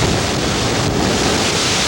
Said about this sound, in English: Crashing waves tell the story of an unsettled night in the Bay Area.